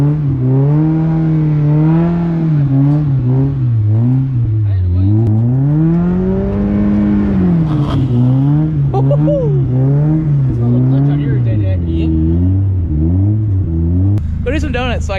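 A car engine revs and drones through rising and falling pitch sweeps while driving in snow, loud and close, with people talking throughout and a sharper burst near the end.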